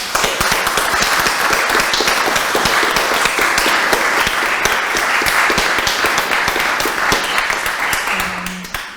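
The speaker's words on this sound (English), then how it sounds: "in which case I think a round of applause for our..." An audience applauding at the close of a fireside chat on women and the arts, dense sustained clapping from many hands, loud and steady before tapering off at the end.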